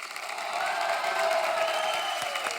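Studio audience of The Kapil Sharma Show applauding and cheering for the guests, a sustained roar of clapping with whoops and a tonal musical layer underneath.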